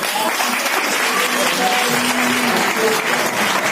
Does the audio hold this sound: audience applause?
yes